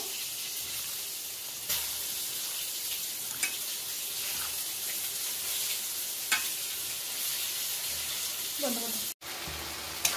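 Mutton being stir-fried in a kadai, a steady loud sizzle with occasional scraping stirs of the spatula, close up and continuous, one brief cut near the end.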